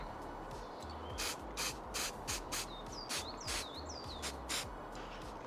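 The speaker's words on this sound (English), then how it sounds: "It's been recommended, so spray away." Spray paint hisses onto a Warhammer Space Marine miniature outdoors in the wind, with about nine short bursts in a quick uneven rhythm, close, while birds chirp faintly in the background.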